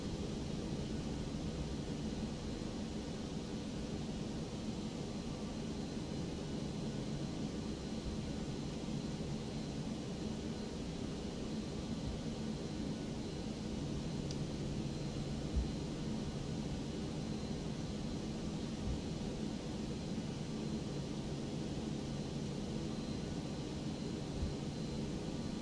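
Airliner takeoff roll in the X-Plane 12 flight simulator game, a steady broadband engine roar and rumble that stays level and continuous for the full stretch, with no talking.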